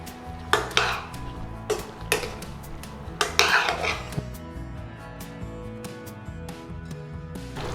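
A spoon clanks and scrapes against a pot while Thai red duck curry with pineapple, green grapes and cherry tomatoes is stirred, giving a few sharp metallic knocks early on, then quieter background clatter.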